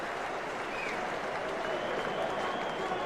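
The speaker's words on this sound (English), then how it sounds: "It's the sort of thing that'll bring the home crowd to their feet." Home crowd at the Gabba applauding a cover drive by Matthew Hayden in a Test match, a broad steady wash of distant stadium clapping and crowd noise that holds for the whole stretch.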